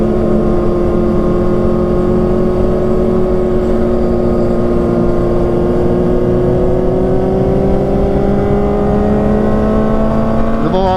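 A Yamaha XSR motorcycle engine runs steadily and close, its harmonic tone rising as it revs up toward the end over continuous road noise.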